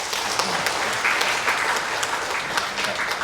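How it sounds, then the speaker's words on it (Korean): An audience claps steadily at an education policy forum, a dense burst of applause from a room full of people, fairly loud and sustained throughout. "다시 한번 뜨거운 박수 한번 드리겠습니다."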